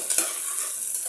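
Cauliflower and other vegetables frying in oil in a pan, a bright continuous hiss of sizzling with a couple of stirring clicks, close and without talk.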